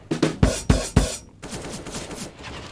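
Gunfire in Counter-Strike: Global Offensive, four sharp, loud shots in quick succession, then a brief pause and a denser, quieter spray of rapid shots.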